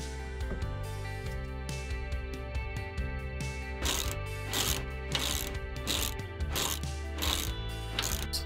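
Ratchet wrench with a 19mm socket snugging a shock mount bolt on a Runner during an OME Nitrocharger shock install, giving a close, steady run of rapid clicks with short bursts of heavier ratcheting strokes.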